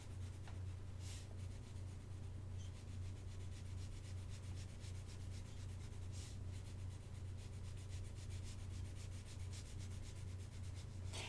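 Crayon rubbed on paper in small, gentle motions while a child's boat-on-stormy-sea picture is colored: a faint, continuous scratchy rustle with a steady low hum underneath.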